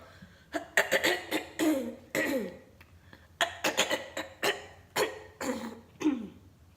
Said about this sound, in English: how long am I gonna clear my throat for?